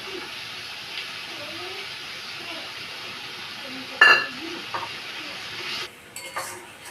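Garlic and ginger paste frying in oil for a chicken curry, a low steady sizzle with a sharp clink of a utensil on the pan midway and a few stirring scrapes near the end.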